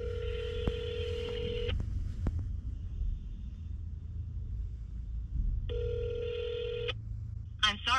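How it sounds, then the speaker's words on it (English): Outgoing phone call placed on a handset: a short burst of dialing tones, then two long ringback tones spaced several seconds apart, with a faint low rumble of background room noise underneath. "I'm just gonna call Josue"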